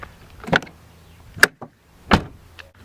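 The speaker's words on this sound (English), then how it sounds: "make sure the doors open and close properly. Check all your doors." Car doors opened and shut in turn during a pre-test vehicle check, giving three separate clunks and latches spread over a few seconds, fairly close and with no talk.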